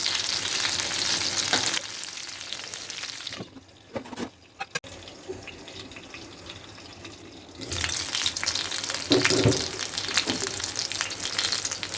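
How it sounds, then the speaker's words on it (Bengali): Small jatka hilsa fish frying in hot oil give a steady close sizzle, which drops away for a few seconds with some clinks before the loud crackling returns. "মাছের কালারটাও খুব সুন্দর হয়েছে এবং সুন্দরভাবে ফ্রাই হয়েছে আমার মাছ"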